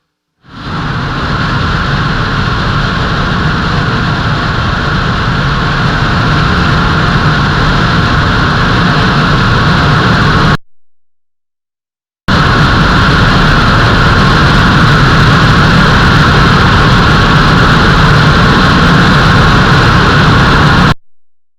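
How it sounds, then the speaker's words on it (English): A Rocket Lab rocket engine roars through a long, steady test firing, a loud continuous broadband rumble that cuts out briefly, then resumes just as steadily to the end. "It just goes on and on as a rocket engine should."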